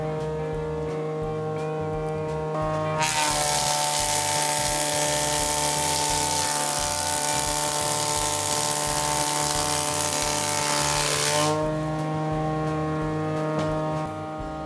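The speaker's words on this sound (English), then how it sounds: "The planer could only just handle it, since its limit is 455 millimeters." A wood planer cuts a 450 mm wide board of 200-year-old Kiso cypress, a loud, dense, steady roar lasting about eight seconds, with a lower machine hum before and after the cut.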